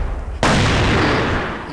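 A grenade goes off in a tactical shooter game, a single loud, sudden blast that hits hard and then rolls on in a broad rumbling roar that slowly fades.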